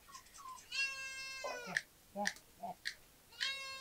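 A cat meows several times in a row, with drawn-out, rising and falling cries between shorter chirps, fairly faint and close. A person calls to it softly in between the meows.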